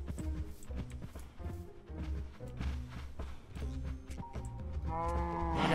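Minecraft cows and livestock lowing and bleating in short repeated calls close by, scattered across the clip over a soft game background.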